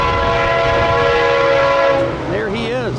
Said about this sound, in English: Here we have a GP38 rescue engine.